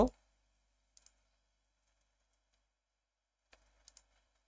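A computer mouse clicks during a Windows 8.1 password reset on a PC, a few sharp, faint clicks in near silence: a pair of clicks, a pause, then several more in quick succession.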